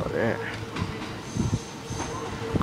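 A Kintetsu out-of-service train rolls through Saidaiji station with a rumbling, hissing wheel noise and faint rail clatter, while someone talks over it nearby.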